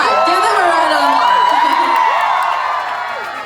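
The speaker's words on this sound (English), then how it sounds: "Come on, give them a round of applause." A concert crowd in Seattle during a tour show, loudly cheering, whooping and screaming in high excited voices, the noise staying strong before easing off toward the end.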